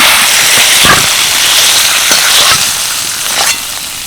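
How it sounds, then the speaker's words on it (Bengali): Chicken pieces for butter chicken frying lightly in a pan, a steady close sizzle with a few brief clinks and stirring scrapes, no talking. "মাংসগুলো দেখো একদম হালকা করে ভেজে নিয়েছি"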